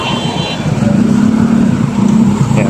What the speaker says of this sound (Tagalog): Toyota 4K yung engine